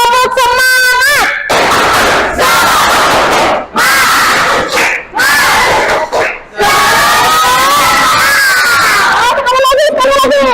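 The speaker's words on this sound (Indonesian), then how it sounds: "Yo, tepuk semangat." A classroom of children shouts a rhythmic spirit clap chant in loud unison during a lesson, with energetic group bursts separated by short pauses.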